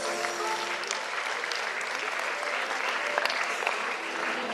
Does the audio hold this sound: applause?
yes